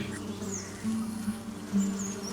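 Bees buzz steadily in a backyard garden beside a city apartment in Puducherry, a low drone with passing swells as individual insects fly near, faint and close, with no voices.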